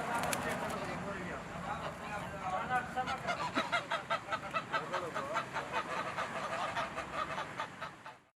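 Geese honking in repeated loud bursts at a busy market selling local Kurdish geese, ducks, roosters and chickens, the calls building into a rapid rhythmic run near the end, with crowd voices underneath.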